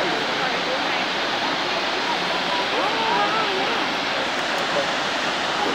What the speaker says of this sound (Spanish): Wow, miren, hemos llegado a la cascada más hermosa de este parque.